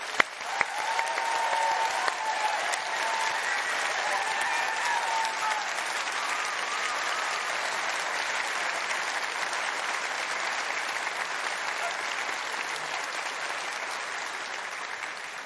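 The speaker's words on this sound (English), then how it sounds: "So I'd really like to give a big thanks and round of applause to all of them." Sustained audience applause fills a graduation ceremony hall for the Salford School of Arts, Media and Creative Tech, a steady dense clapping from a large crowd that holds evenly throughout with no speech over it.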